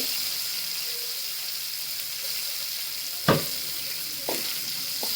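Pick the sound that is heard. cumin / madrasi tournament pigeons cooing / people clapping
cumin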